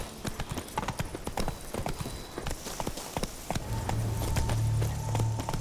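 Roach the horse gallops in The Witcher 3, rapid loud hoofbeats clip-clopping steadily throughout, with a low droning tone entering partway through.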